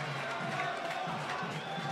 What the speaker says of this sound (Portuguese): A torcida aplaude, sente que o momento é bom.